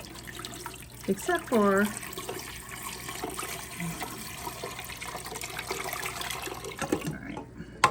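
Water is poured into a canning pot for chicken, a rush of pouring and splashing over steady background noise, with a person talking briefly.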